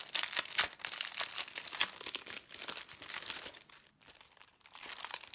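Plastic packaging around Simple Stories snap cards is opened up close, a continuous, quiet stream of crinkling, crackling and tearing with brief pauses and no talk.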